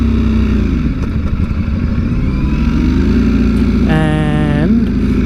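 A Ducati motorcycle carries a passenger on a rainy ride, its engine a loud, constant drone with rushing wind, shifting pitch slightly and joined by a brief rising whine near the end.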